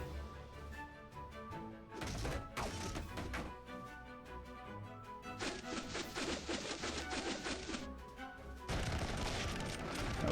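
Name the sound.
unit gunfire volley in video game Ravenmark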